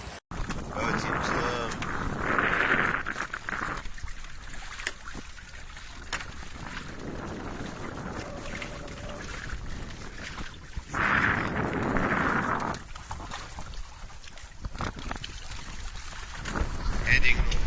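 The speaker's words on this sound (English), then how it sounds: "Okay, guys, let's go sailing." A sailboat heading out offshore on the Black Sea, with steady wind and water rushing past the hull, swelling in surges and easing between them, plus faint creaks and knocks aboard.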